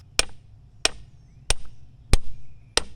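A new, oiled seal is tapped into place during four-wheel-drive repair on a John Deere 755 compact tractor: five sharp, close metallic knocks land at an even, unhurried pace, each dying away quickly.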